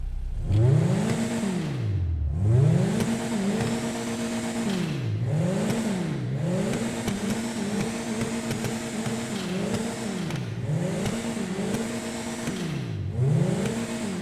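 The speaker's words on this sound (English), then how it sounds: "There is a little bit of a blow-off valve sound, which is kind of cool." A Bollokan Prairie car engine in GTA Online revs up and down repeatedly in a steady, cyclic pattern, loud and close, with a hissing blow-off valve whoosh as the revs drop.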